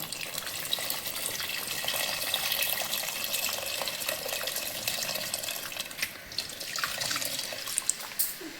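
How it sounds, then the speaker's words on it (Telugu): Tamarind juice poured into a pot of cooking dal with drumstick pieces, a steady wet pouring and splashing that runs continuously at moderate level, with faint drips near the end. "ఇప్పుడు చింతపండు పులుసు వేసేస్తున్నానండి."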